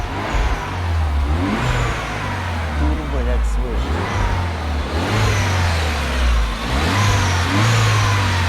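A Mini Cooper Clubman S engine runs steadily and revs in repeated rising surges, loud and close, with a low throbbing drone underneath and some voices faintly in the background.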